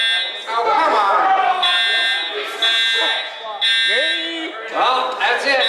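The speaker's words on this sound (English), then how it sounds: "looks like someone called the fire alarm" A fire alarm sounds through a comedy show, its steady high buzzing tone holding loud across the whole stretch while a crowd murmurs and voices talk over it.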